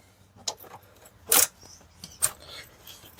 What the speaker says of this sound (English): I'm gonna use this ratchet with the socket just to break it loose